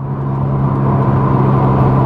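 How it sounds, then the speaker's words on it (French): A Mazda RX-7 FD's rotary engine revs up hard under acceleration, a loud, steady, climbing drone heard from inside the car with no talking. "On monte en régime, ça monte d'un coup, ça s'emballe et ça monte vraiment rapidement en régime."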